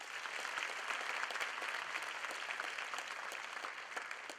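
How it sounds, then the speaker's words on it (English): Steady audience applause from a seated crowd at a 4-H youth rally, dense and even throughout with no talking, moderately distant and sustained. "Let's give her another round of applause"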